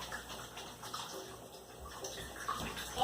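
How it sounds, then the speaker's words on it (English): Hands being rinsed under running tap water during a traditional honey harvest, a soft steady splashing stream that stays faint and continuous throughout with no talk. "I'm going to rinse my hands real quick"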